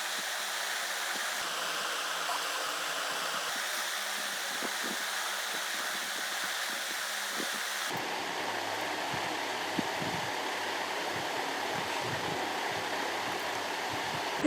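A sewing machine stitching a fabric strip for a Radha Krishna costume runs as a steady mechanical whirring hum for the whole stretch, even and continuous, shifting slightly in tone partway through, with no voices.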